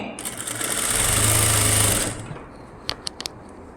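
A sewing machine runs a double stitch along a lined blouse shoulder seam, a loud close whirring burst of about two seconds that stops, followed by a few small clicks.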